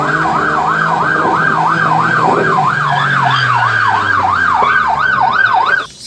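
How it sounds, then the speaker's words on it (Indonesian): A toy police car siren wails in a steady, rapid up-and-down warble, loud and close, running continuously for about six seconds before cutting off abruptly at the end. "Wow, ada mobil polisi teman-teman."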